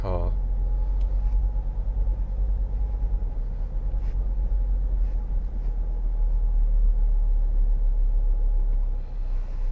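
Low, steady road rumble from inside a car crawling through congested town traffic in a 20 mph zone on a ring road, with engine drone and faint passing vehicle sounds throughout.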